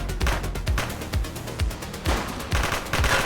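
Rapid bursts of gunfire in the cop video game The Precinct, a dozen or so sharp repeated shots in quick uneven clusters, loud and close, with no talk over them.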